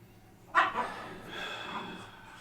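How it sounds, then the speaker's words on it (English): A dog gives one sharp, fairly close bark, followed by soft breathing and muffled room noise for the remaining couple of seconds. "No video is complete without some dog noise."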